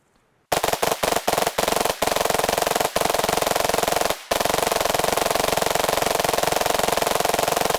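Vehicle-mounted gun in Arma Reforger firing at a building: a sharp opening burst of separate loud shots, then sustained dense automatic fire that runs almost continuously, broken once by a brief pause.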